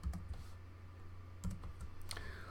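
Keys tapped on a computer keyboard in short irregular bursts at a programming desk, soft clicks over a steady low hum, no voices.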